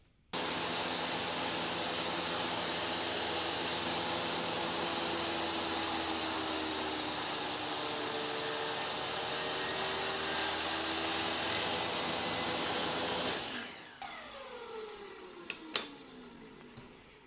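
A table saw fitted with a dado blade makes a test crosscut: a loud, steady whining roar runs for about thirteen seconds, then the blade winds down with a falling whir and a few faint clunks.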